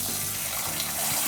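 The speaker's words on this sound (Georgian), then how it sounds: "და ამას დავასხეთ წყალი." Water pouring steadily into a pot with garlic, black pepper and bay leaves to make broth, a continuous close rushing stream with no talk.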